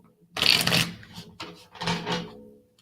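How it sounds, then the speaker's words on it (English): Two bursts of brisk papery riffling as tarot cards are shuffled, a longer one then a shorter one, close by and fairly loud, with quiet gaps between. "you all may have just heard me shuffle these cards"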